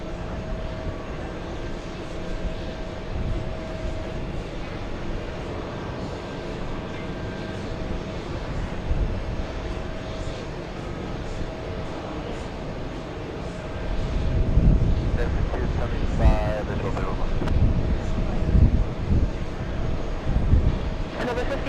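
An Air Europa airliner lands in a crosswind, its engine roar steady at a distance and then swelling louder near the end, with a faint tonal whine throughout and people talking at times.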